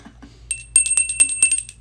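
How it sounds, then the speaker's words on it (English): A bicycle-type bell rings several times in quick succession, bright and close, the rings clustering after a quiet start. "We brought our bell."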